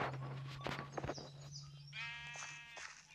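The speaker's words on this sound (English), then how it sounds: "Don't run away, sheep." Sheep in the video game Minecraft bleat a few times, wavering and fairly faint over steady game background noise, with no talking.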